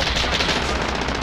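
Rapid automatic gunfire from a video game rattles out in a dense, continuous burst, loud and close, with no pause across the short stretch.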